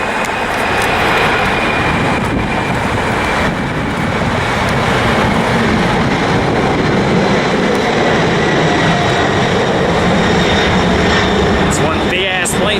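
An airliner takes off from LAX with a loud, continuous, broadband jet roar that holds steady throughout. Voices from nearby spectators come through now and then beneath the engine noise.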